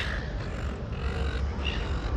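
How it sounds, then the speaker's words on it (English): Crows and other birds call outdoors in a busy spot where children are feeding them, with several harsh caws rising over steady broadband background noise. "You can hear the birds."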